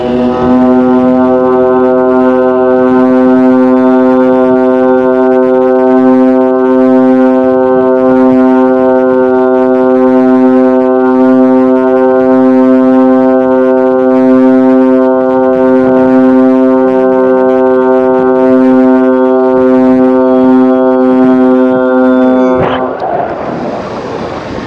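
Set of Vietnamese bamboo kite flutes (sáo diều, 11-pipe d60 set with brass bands) droning continuously in the wind, a loud, steady chord of stacked pitches held for the whole stretch before cutting off abruptly near the end.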